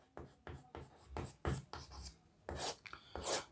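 Pen writing on paper while working through a class 12 maths exercise on relations: a series of short scratchy strokes in irregular bursts, close and fairly quiet, with no talk.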